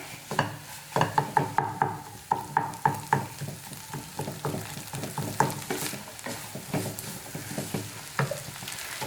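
Green peas and egg stir fry cooking in a pan, with a soft steady sizzle under repeated scraping and clacking strokes of a spatula stirring at an uneven rhythm.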